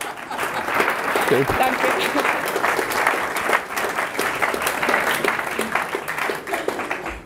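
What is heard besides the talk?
audience applause for the landlady at Maibock festival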